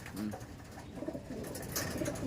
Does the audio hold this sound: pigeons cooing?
yes